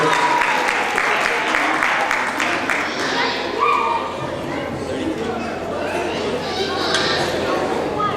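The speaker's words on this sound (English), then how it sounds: "So let's give them a round of applause." Quiz teams at a Jain Center community event are applauded, with scattered clapping mixed into chatter and voices; the applause is strongest early, then fades beneath ongoing talk.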